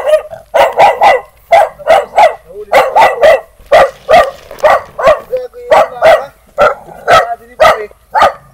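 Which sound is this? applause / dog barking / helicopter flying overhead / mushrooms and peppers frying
dog barking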